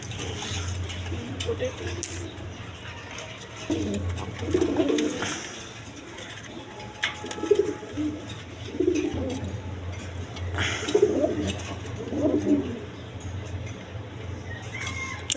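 Pigeons coo in soft, low, repeated bursts close by at a pigeon farm, with a quiet hum and occasional rustling around them.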